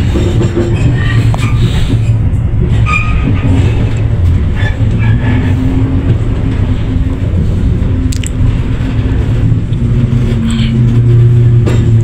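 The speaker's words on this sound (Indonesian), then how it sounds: "Dan kita merapat di stasiun Cirebon Perujakan." An economy-class train pulls into Cirebon Prujakan station, heard from inside the carriage as a steady low rumble with brakes and wheel noise throughout, loud and continuous with no talk.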